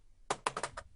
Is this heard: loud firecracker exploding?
no